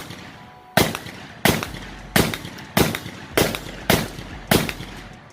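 Seven sharp, loud gunshots ring out at a steady, roughly even pace from a Brownells BRN-180S 10.5-inch AR pistol with a flash hider, each crack trailing a short echo, with no talk between shots.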